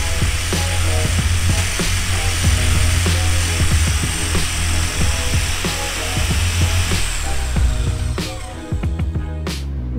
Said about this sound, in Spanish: Luego, ahora sí, el taladro.